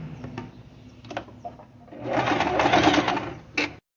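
A sewing machine runs a straight stitch in short bursts, then a longer continuous whirring run of needle strokes before stopping abruptly, close and clear.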